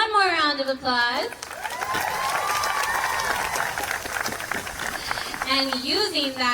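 Applause for the Eagle Pass High School Mariachi at an EPISD ribbon cutting ceremony: a broad, steady wash of crowd clapping that fills the middle of the clip, with a person talking before and after it.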